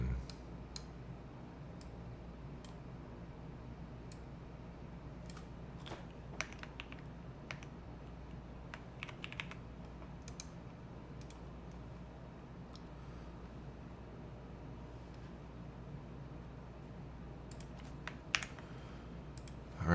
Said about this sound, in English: What kind of keyboard are you using? It sounds creamy.